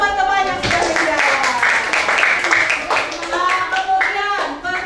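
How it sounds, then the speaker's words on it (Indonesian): Schoolchildren in a classroom clap for classmates who answered, a steady burst of hand claps mixed with young voices talking throughout, close and fairly loud. "Tepuk tangan dulu untuk teman-teman yang sudah menjawab."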